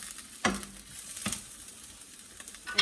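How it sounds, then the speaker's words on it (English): Onions sauteing and browning in a pan for a tortellini pasta dish, a steady soft sizzle with a few sharper clatters of a utensil stirring, close and alone. "So now I'm just sauteing the onions, like they're browning a little bit"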